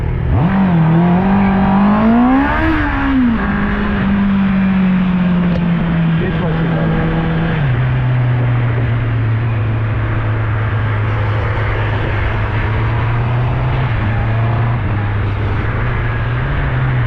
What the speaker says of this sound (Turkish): Hoppa araba çıkıyor.